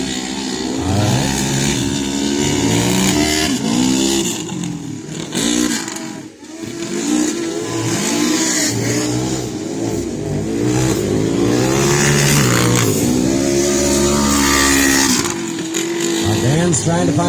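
Race cars at Fusion Greenville roar and rev continuously as they accelerate hard down the front straight out of a chicane, engines loud and close with shifting pitch throughout, while a commentator talks over the racing.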